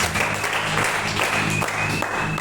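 A church congregation applauds for the Lord Jesus in a dense, steady wash of clapping that holds loud and even throughout, with faint voices mixed in.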